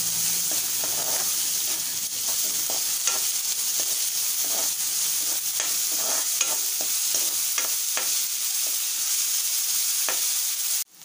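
Finely chopped medium onion sautéed and stirred in a pan for palak dal: a steady, close sizzle runs throughout, broken by irregular scrapes and knocks of a spatula against the pan.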